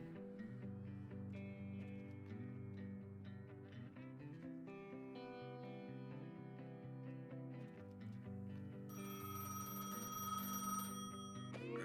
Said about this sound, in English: Pick up the phone at the booth in front of the station.